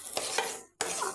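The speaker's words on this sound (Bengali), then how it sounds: "এবার আমি ভালো করে সঙ্গে মিশিয়ে নিচ্ছি" Fried lentils and fried cucumber being stirred in a pan over low heat for a cucumber stir fry, with scraping, soft sizzling strokes, a brief pause, then more stirring close up.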